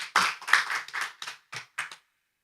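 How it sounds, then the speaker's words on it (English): A short burst of sparse, uneven clapping from a small audience at an international conference session, a few distinct claps that thin out and stop after about two seconds. "Can audience give applause to our presenter?"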